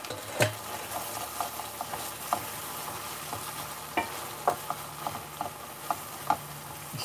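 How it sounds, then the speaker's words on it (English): A utensil scraping the sides of a hot pan of thickened base gravy, with steady sizzling underneath and repeated light scrapes and taps, close with no talking. "I'll scrape the sides of the pan down as well"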